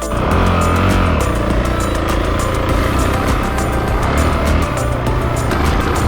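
A Honda CRF300L motorcycle rides at a Travelers event off-road track, its engine a loud continuous drone with wind rush close to the listener, no talk.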